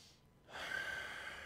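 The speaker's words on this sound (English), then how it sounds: "breathing in deeply" A deep, steady breath during a yoga session, drawn in close to the microphone after a brief pause, a soft airy hiss lasting about a second.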